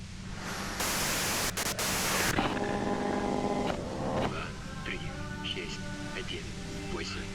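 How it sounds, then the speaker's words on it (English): Radio static and white noise crackle in the video game Disco Elysium, with a bright noisy burst early on giving way to electronic tones and hiss. "you can do it through the white noise"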